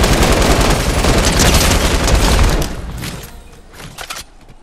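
Gunfire in Fortnite: a dense, loud rapid burst of automatic shots for about two and a half seconds, then a few scattered quieter shots trailing off, with no voices over it.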